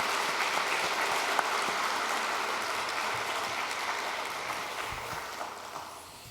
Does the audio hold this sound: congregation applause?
yes